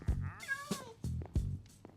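A cat meowing in Minecraft, several short close meows in quick succession with rising and falling pitch, clear and alone.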